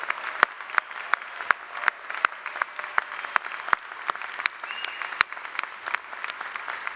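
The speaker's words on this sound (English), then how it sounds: "One more round of applause for Dr." Sustained applause from a graduate commencement audience, steady clapping with sharper claps standing out, fairly distant and even for the full stretch.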